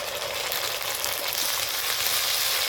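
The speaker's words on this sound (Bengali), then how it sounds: "এই মশলাগুলো এখন পেঁয়াজ রসুনের সঙ্গে ভালোভাবে একটু কষিয়ে নেব" Ginger, cumin and dried chili paste fry with onion and garlic for a chicken curry, giving a steady, close, dense sizzle that holds even throughout with no voices.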